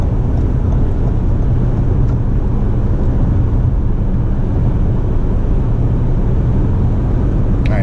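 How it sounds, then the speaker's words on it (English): A 2019 Toyota RAV4 XLE AWD four-cylinder engine accelerating uphill, heard from inside as a steady loud low drone blended with road and wind noise, constant throughout with no talking. "Accelerating up that hill on the four-cylinder."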